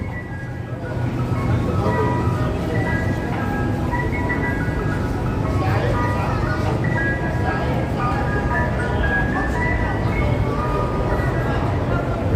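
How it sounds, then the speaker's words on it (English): An ice cream truck plays its repeating chiming jingle on a busy Brooklyn street near the Brooklyn Bridge walkway, loud and continuous over city traffic rumble, with a voice speaking briefly. "Ice cream truck."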